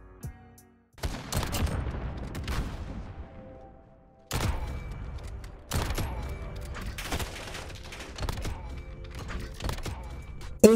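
Sniper rifle shots in Modern Warfare ring out as several loud, sharp cracks, each trailing off into a reverberant tail, spaced one to two seconds apart amid continuous game noise.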